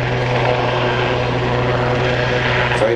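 A Royal Navy Lynx HAS3 helicopter of 815 Squadron flying at the East Fortune Airshow gives a loud, steady drone with a strong low engine hum and a constant broadband roar.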